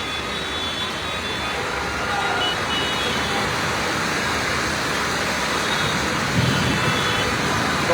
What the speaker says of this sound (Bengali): বৃষ্টির শব্দ হয়তো আপনারা শুনতে পাচ্ছেন যে প্রবল বৃষ্টি এখন এই মুহূর্তে